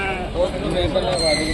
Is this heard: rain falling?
no